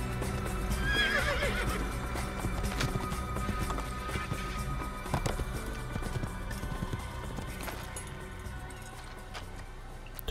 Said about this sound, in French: le cheval qui se manie plutôt très bien